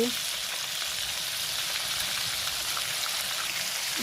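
Onion, garlic and ginger paste with cinnamon, cardamom, cumin powder and green chillies frying in a pan, a steady close broadband sizzle running the whole time with no talking.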